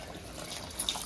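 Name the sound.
water poured into rice for biryani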